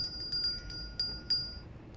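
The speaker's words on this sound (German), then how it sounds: "Ding dong." A doorbell chime from the Goodbye Deponia adventure game rings as a few light, bright metallic dings spread over two seconds against a soft background.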